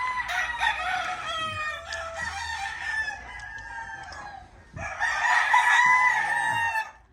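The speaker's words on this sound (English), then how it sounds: "Boy, they're all crowing." On a Philippine livestock farm, roosters crow loudly and repeatedly, two long bursts of overlapping crowing with clucking chickens in between, close and clear with no talk.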